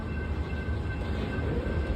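A train rolls past near Fosterville, Tennessee, giving a steady, loud rumble of wheels and cars with a faint high tone over it, continuous and unbroken throughout.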